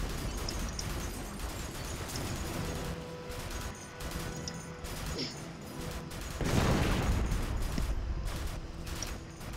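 In a Far East War video game match, a machine gun nest is destroyed amid dense gunfire and crashing explosions, a continuous loud barrage that swells with a heavier blast near the end, with faint voices underneath.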